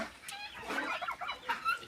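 Harsh, chattering guinea fowl calls in quick, uneven bursts, fairly close, with a few sharp cries standing out.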